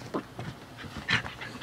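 A dog pants in quick, short breaths at close range, with soft huffs spaced through a brief moment of rough play.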